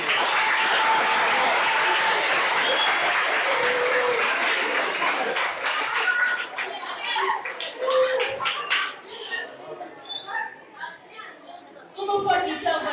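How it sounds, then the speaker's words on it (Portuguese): Audience applause for a children's school performance at a children's book festival, a dense burst of clapping that thins into scattered claps with chatter and voices talking over it. "Uma forte salva de palmas para os nossos meninos"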